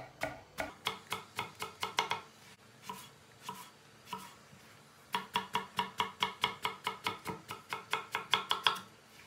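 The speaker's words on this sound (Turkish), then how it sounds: "Bir de doğrarken çok ince doğrayacağız." A knife finely chops eggplant on a board in quick runs of crisp, close taps with brief pauses between them, and nobody speaking.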